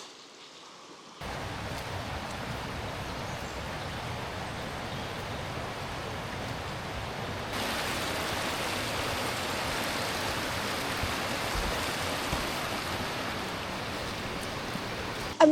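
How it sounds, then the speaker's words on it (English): Steady broadband rushing of a river flowing close by, a continuous wash of water noise with no talk, growing slightly louder partway through. "so you might get a bit of the background noise from the river"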